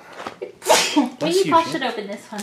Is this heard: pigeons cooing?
no